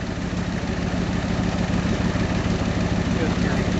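A 1965 Ford tow truck with a four-speed transmission and two-speed axle idles steadily, a low, even engine rumble that holds constant and fairly loud for the whole stretch, with no break in the sound.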